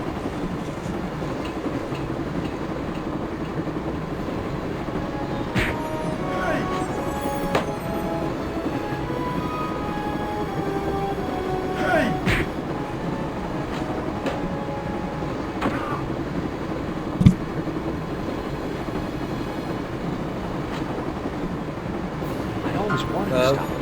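A train runs through a video game with a continuous rumbling roll and clattering wheels, faint squeals and one sharp clank partway through, while someone talks over it.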